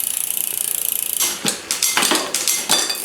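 A bicycle derailleur with overly tight limit screws and low cable tension is worked on a stand: rapid freewheel ticking, then several heavy, slamming metallic clunks as the chain drops across the cogs.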